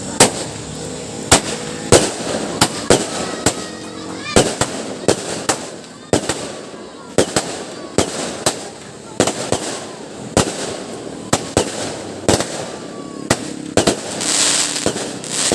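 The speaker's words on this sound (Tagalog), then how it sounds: "Ito mga boss, Power Balls by Tiger Fireworks." Tiger Fireworks Power Balls go off in a rapid series of sharp, loud cracks and bangs at irregular intervals, close by, with voices talking faintly between the bursts.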